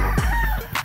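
Gamefowl roosters at a game farm in Angat, Bulacan give a short, loud, close burst of clucking and crowing calls lasting under a second.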